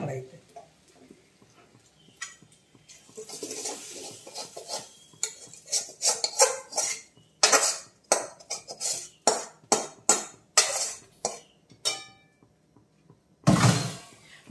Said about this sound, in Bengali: এবার এই কড়াইতে ঢেলে নেব,